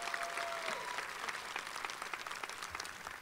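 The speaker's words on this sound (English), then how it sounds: "How about another hand clap of praise for Chloe?" Audience applause fills a university inauguration ceremony hall after a sung performance, steady dense clapping throughout, fairly soft and diffuse, with a brief held tone at the start.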